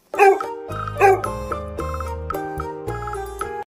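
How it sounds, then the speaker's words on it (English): A dog gives two short barks near the start, followed by a bright musical backing that continues steadily to the end. "D for dog."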